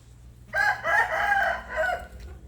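A Burmese game rooster in a garden pen crows nearby, one drawn-out, loud call stretching about a second and a half, with no talking over it.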